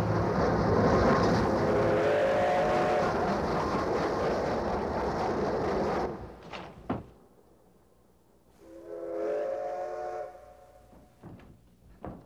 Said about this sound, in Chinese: 火车来了